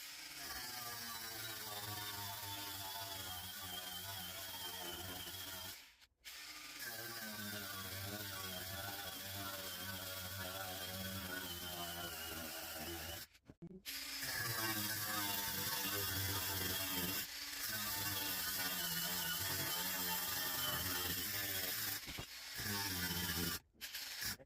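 A cordless grinder cuts through metal in a steady, loud whirring grind that runs for several seconds at a time. It stops briefly at three points before starting up again. No voices are heard.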